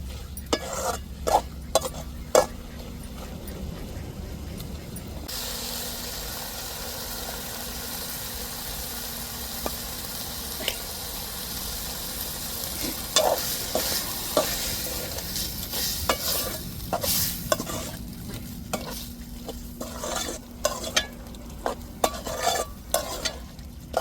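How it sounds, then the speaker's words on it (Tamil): Ginger, garlic and green chilli sauté in a pan with a steady frying hiss and frequent scraping stirs, the crackle growing busier and stronger toward the end. "இஞ்சி பூண்டு அந்த பச்சை வடை மாறக்கட்டிக்கு நல்லா வதக்கி விட்டுக்கிடுவோம்"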